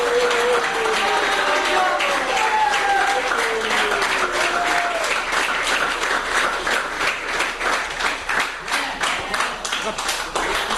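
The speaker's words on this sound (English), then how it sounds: "Let's hear a round of applause" A crowd applauds a championship captain at an under-19 cricket zonal finals trophy presentation, with sustained dense clapping throughout and a voice faintly audible beneath it.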